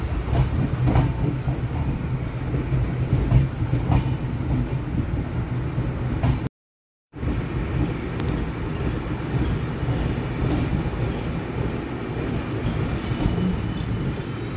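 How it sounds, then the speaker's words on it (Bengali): A passenger train running on the rails toward New Farakka rumbles steadily, with rhythmic clickety-clack from the wheels and a brief break partway through, and no voices. "২৯৫ কিলোমিটার জার্নি করে আমাদের ট্রেন এসে পৌঁছালো এখন নিউ ফারাক্কাতে"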